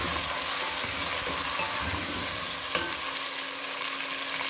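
Three tomatoes sizzle as they fry in a pan with browned onions, a steady close frying hiss with a faint stir or scrape partway through.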